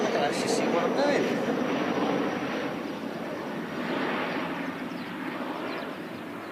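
An airplane departs Christchurch Airport for Wellington, its engine roar a broad steady rumble that swells slightly and fades, heard from a distance outdoors.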